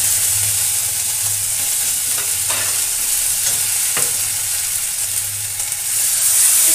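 Cumin and ginger paste fries in a pan, a constant close sizzle with soft scraping strokes of stirring scattered through it, steady and moderately loud with no talking.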